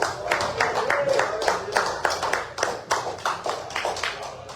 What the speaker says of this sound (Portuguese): quem puder, as palmas para o Senhor Jesus